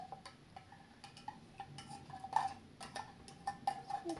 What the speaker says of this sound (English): Just scrape it out with the spoon